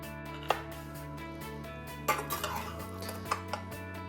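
A knife cuts into a warm corned beef and cabbage meatloaf filled with onion and rice and topped with a whiskey tomato glaze, making a few sharp clinks against the plate over a steady background tone.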